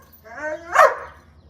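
A single sharp dog bark from a breeder's kennel bloodline dog, preceded by a rising whine, close and fairly loud over a low background hum.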